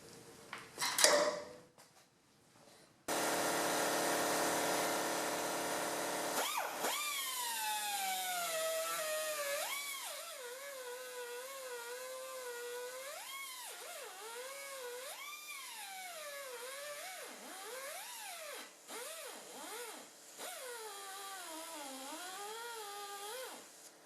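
Air-powered cutting tool at 100 psi working on the front end of a Corvette C5 Z06: an initial burst, then a loud continuous high whine whose pitch rises and dips repeatedly as the tool bogs and recovers, close and sustained.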